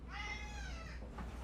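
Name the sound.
cat Tiny meowing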